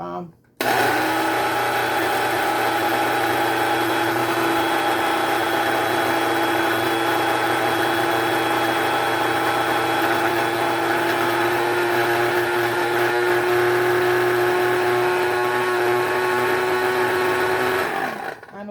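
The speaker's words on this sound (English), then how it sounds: "So right now I'm just gonna grind it up." An electric grinder powders dried moringa leaves in a continuous loud whir that holds steady for about seventeen seconds, starting and stopping abruptly.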